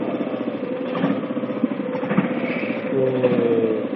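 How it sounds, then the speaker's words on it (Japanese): Iseki Lovely Mini four-row rice transplanter engine idling steadily while warming up, a close, even mechanical chug with a constant low rumble and slight rattling throughout, no talk. "少し 温度が上がるまで暖気運転をした方がエンジンの調子はいいと思います"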